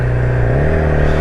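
A Yamaha R6 motorcycle engine revving up close, a loud, throaty sustained roar whose pitch climbs slightly partway through, filling the whole short moment with no talking.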